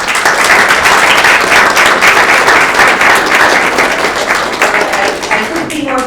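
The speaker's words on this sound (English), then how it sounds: "So how about a round of applause for the students and their support team." An audience at a school district student-of-the-month presentation gives a round of applause for the students and their support team, dense loud clapping that fades slightly toward the end.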